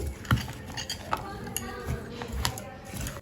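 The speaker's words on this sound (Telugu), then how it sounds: "ఈ మసాలాలు, కారం అన్నీ కలిసేలాగా కలుపుకోవాలి" Prawn pickle being mixed with masala and chili powder, a spoon clinking and scraping against a metal vessel in irregular taps and knocks, close, with faint background noise.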